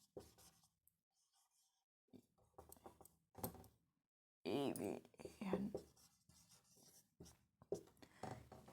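A teacher writes on a classroom board in short scratchy bursts, broken by pauses, while she talks quietly between and over the strokes.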